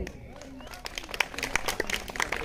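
A freshers' day celebration audience breaks into clapping, sharp scattered claps that start sparse and quickly thicken into lively applause, heard close under someone talking.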